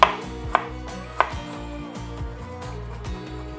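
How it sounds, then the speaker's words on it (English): A knife chops through onions, ginger and garlic on a cutting board for pork vindaloo sauce, a steady run of close, crisp blade taps with a few sharper knocks, no voices. "we're just going to start with the prep of our Vindaloo sauce by slicing the onions, the ginger and the garlic"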